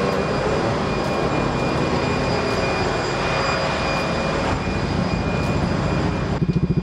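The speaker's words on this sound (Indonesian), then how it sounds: "ini adalah bunyi dari knalpot Burnout ya." Honda ADV 150 scooter fitted with a Burnout aftermarket exhaust runs at a steady, deep, bassy drone, loud and close throughout, with a few sharper pulses near the end.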